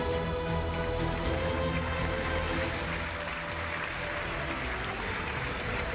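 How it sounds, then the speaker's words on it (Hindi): Studio audience on a Hindi television debate show claps to welcome three judges, a continuous, even patter of applause with a faint hum of music or crowd noise underneath, moderately loud and sustained across the whole stretch. "तालियों के साथ स्वागत कीजिए हमारे तीनों जजेस का।"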